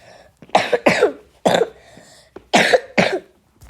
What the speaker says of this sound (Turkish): Öksürük krizine girdim.